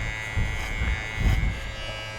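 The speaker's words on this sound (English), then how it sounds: "Should we keep the mustache or shave it off?" An electric razor buzzes steadily while shaving off a mustache outdoors at a mountain campsite, its close, constant drone swelling slightly as it presses against the hair.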